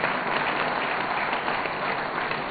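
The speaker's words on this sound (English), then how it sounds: "A big clap for all of you" An audience at a legal conference hall applauds with dense, steady clapping that fills the whole moment evenly, loud and close, with no voices over it.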